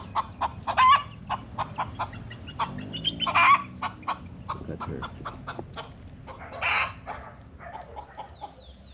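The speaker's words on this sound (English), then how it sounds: "With all the chickens around." Chickens cluck repeatedly in short bursts close by in a residential area of Cherry Gardens, Jamaica, with a few louder squawks, and a person briefly speaks over them.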